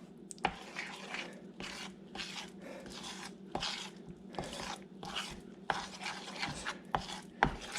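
Menhaden mud bait mixed with flour being stirred by hand, a rhythmic run of wet squelching, rubbing strokes and occasional sharp knocks, close and fairly quiet, with no talking.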